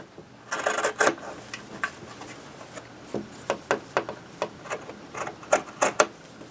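Scissors cutting fabric for a tote bag into a seam corner, a run of crisp snipping clicks close by, irregular at first then settling into a quicker rhythm.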